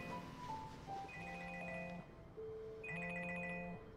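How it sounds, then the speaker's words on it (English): A mobile phone plays a melodic electronic ringtone, two short phrases of steady chiming tones at moderate volume, with no voices over it. "Does your phone always do that?"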